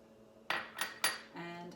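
A silicone spoon stirring ginger and chopped chili in a pan gives three sharp, close knocks against the pan in quick succession, then a faint, steady hum.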